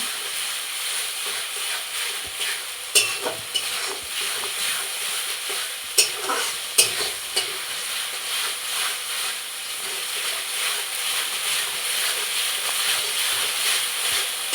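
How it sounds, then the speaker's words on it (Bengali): A turmeric and salt mixture fries in a pan, giving a steady, loud sizzle throughout, with a few sharper scraping knocks as it is stirred. "এটাকে বারে বারে নাড়াচাড়া করতে হবে"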